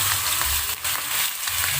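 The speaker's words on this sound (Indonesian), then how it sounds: "Panaskan minyak goreng secukupnya, lalu masukkan ikan yang udah terbalur bumbu tadi." Seasoned fish frying in hot cooking oil, a dense, steady sizzle that stays loud and close throughout with no voices.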